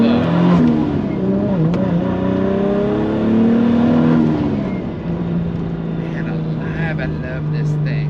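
A big-turbo Toyota Supra making about 1400 horsepower pulls away slowly in first gear, its loud engine drone rising then settling, close and steady, with a voice talking over it.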